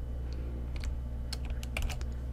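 A short burst of typing on a computer keyboard while VBA code is written in Excel, with scattered light clicks clustering toward the end over a low background hum.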